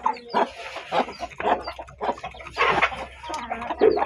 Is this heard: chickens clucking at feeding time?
yes